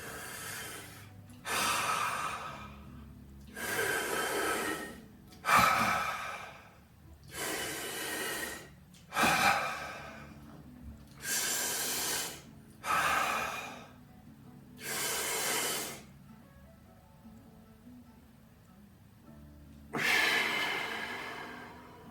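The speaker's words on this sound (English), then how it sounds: "my nose is a little plugged, so I'll do mouth breathing" A person with a plugged nose breathes heavily through the mouth, close to the microphone, in about ten long, slow, airy breaths separated by quiet pauses.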